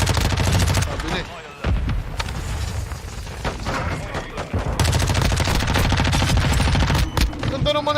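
Rapid bursts of FSS Hurricane submachine gun fire in a video game, dense and continuous over eight seconds with a brief break, mixed with game sound and voices talking over it.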